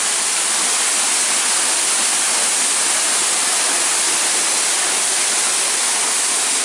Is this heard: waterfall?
yes